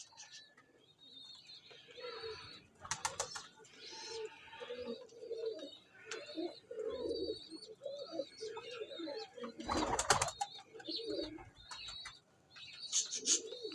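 Pigeons coo softly in low, throaty repeated phrases close by, mixed with chirps from other birds, a few sharp clattering bursts and a brief flutter of wings; faint voices come and go in the background.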